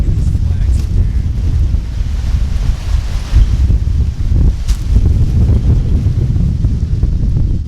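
Loud, blustery wind, gusting around 30 mph, buffeting the microphone at a skydiving drop zone, with a heavy low roar that swells and gusts over several seconds.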